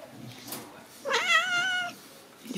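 Pet cat in a dim room at home lets out one drawn-out, wailing caterwaul during a scuffle, loud and close, with a few softer rustles around it.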